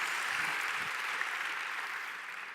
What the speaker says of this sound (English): I guess the intensity of the applause speaks for itself.